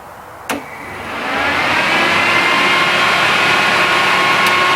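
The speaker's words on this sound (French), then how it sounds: "Je vais voir si le ventilo fonctionne." After a sharp click, a Renault Super 5 car's electric radiator cooling fan spins up and settles into a steady, loud whirring hum that keeps running.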